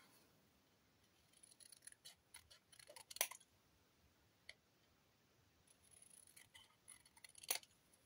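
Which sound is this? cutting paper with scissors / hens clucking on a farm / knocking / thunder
cutting paper with scissors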